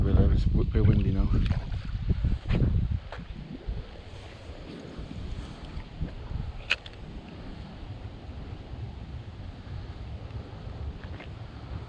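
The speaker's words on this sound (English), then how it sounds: "It's a bit windy now." Wind gusts outdoors on a fishing trip, with loud low rumbling buffets on the microphone at the start that settle into a steadier whoosh, while people speak over it.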